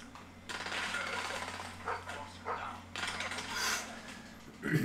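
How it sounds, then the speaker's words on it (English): A dog in the shooter game Call of Duty Black Ops 4 barks in a rapid series of close, loud bursts, with a faint low hum underneath. "Now we've got a doggy after us."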